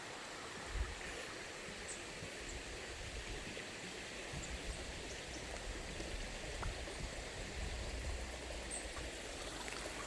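A forest stream at a botanical garden on Yumyeongsan mountain, heard from a boardwalk deck above it, babbles steadily with a soft, constant wash of flowing water and faint splashes throughout.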